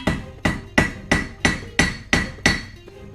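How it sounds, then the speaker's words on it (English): A 3-pound hammer strikes metal about eight times at an even, steady pace, flattening spots on a crown where stones will be mounted; each blow rings out loud and close, with nothing else heard. "I'm hammering the flat spots where I'm going to mount stones"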